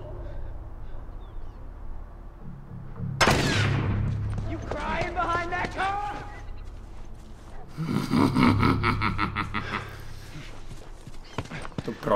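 Gunfire in The Last of Us game: loud bursts of shots with sharp crackling reports around the middle and again later, mixed with roaring game effects and shouting voices.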